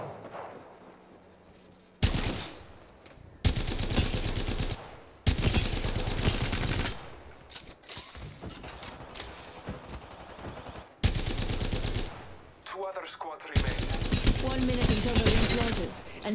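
Video game gunfire: loud, close bursts of automatic fire arrive in several separate blocks, with quieter pauses between them.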